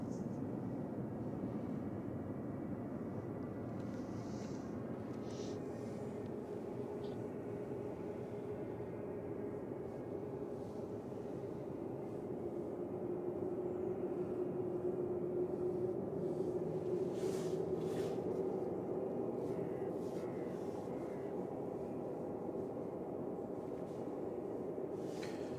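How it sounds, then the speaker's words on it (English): An EasyJet Airbus A319 departs Manchester Airport for Amsterdam, a distant, faint jet engine drone that builds slowly and lingers as a low, steady rumble. "That was EasyJet off to Amsterdam."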